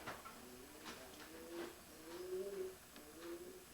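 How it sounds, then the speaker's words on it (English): Pigeon cooing in a breeder's loft: soft, low repeated coos in a short rhythmic series, moderately close over a faint background hiss, with no voices. "This is the father of that pigeon right over there."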